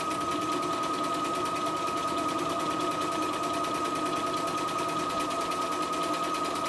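A CNY E960 portable embroidery machine stitches a buttonhole, its needle hammering in a fast, even mechanical rhythm that stays loud and close the whole time without a pause.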